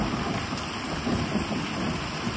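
Steady rain falling during a late-February storm in Ashok Nagar, Ranchi, with neem trees nearby; a continuous close hiss with a low rumble underneath, no voices.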